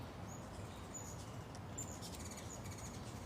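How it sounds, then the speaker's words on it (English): Small birds gathering at backyard hummingbird feeders give sparse, high, thin chirps and tweets against a constant low ambient rumble, faint and distant, with no voices. "Got all kinds of birds back here."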